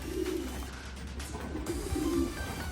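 Homing pigeons coo softly after toss training, a couple of low, faint murmuring calls over a steady low background rumble.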